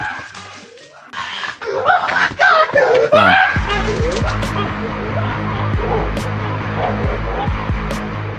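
A guard dog barks and yips excitedly in a rapid, loud burst, with whimpering and frantic cries mixed in, followed by a noisy scuffling scramble as the commotion continues.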